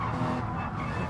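A BMW M4 six-cylinder race car on a track at Willow Springs during practice, heard as a steady, loud engine roar with some tire noise, no voices.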